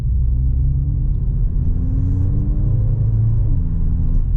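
A Mercedes GLA 45 AMG engine in sport mode drones steadily up close, its low rumble rising in pitch through a couple of smooth gear changes as it accelerates.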